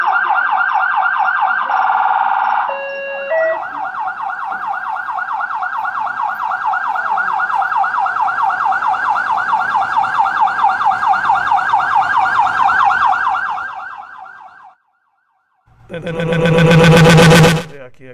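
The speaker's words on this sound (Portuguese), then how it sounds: "Aqui que entrou a sirene aqui." A loud electronic siren wails in a steady rapid warble for about fifteen seconds, with a brief pitch shift early on, then cuts out before a short, harsh, loud burst of a different tone.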